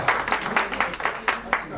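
A small audience at a Hindi book launch applauds a couple being honoured. There are distinct claps in a loose rhythm, close and moderately loud, with a faint murmur of voices beneath them.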